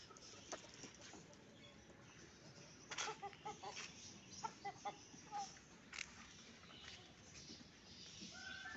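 Chickens in a backyard colony, including a rooster and hens released together, cluck in short bursts mid-clip over a faint, noisy outdoor background.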